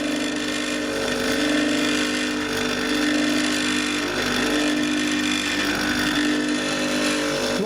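A freezer under repair runs loudly, with a steady mechanical hum and a continuous buzzing rattle that holds throughout at close range.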